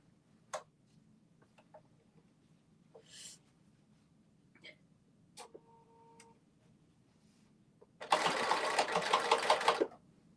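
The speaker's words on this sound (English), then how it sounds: "now we are going to sew our front to our back" A sewing machine stitches the front of a garment to the back, a loud two-second mechanical burst that follows a stretch of scattered light clicks and ticks.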